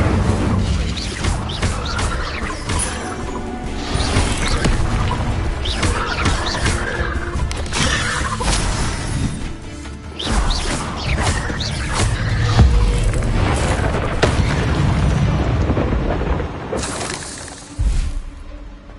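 Incendio fire spell cast repeatedly during a fight in the video game Hogwarts Legacy, with loud whooshing fire bursts and crashing, shattering combat effects over a dense game soundtrack.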